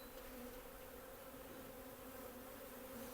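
Dense, steady buzzing of agitated honey bees swarming from an opened beehive, a continuous faint drone with no pauses and no talking.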